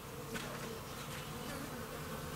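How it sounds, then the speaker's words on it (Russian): A dense, steady buzz of many honeybees close by, droning continuously without pause. "Слышите, да? Пчелки работают"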